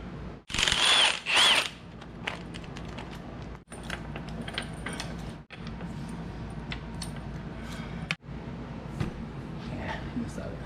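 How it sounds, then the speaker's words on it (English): A spring compressor is slowly backed off a Ford F-150 strut during a Rancho 3-inch lift install, with clustered mechanical clicks and ratcheting close by. Someone talks over the work at times. "Now we can go ahead and release the tension off the strut."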